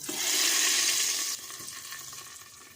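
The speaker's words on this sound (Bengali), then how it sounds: "ফোড়নগুলো আমি এখন ডালের মধ্যে দিয়ে দেব" Hot soybean oil tempered with a garlic clove and two dried red chillies is poured into cooked chana dal, giving a loud burst of hissing sizzle that drops abruptly to a quieter, steady bubbling fizz.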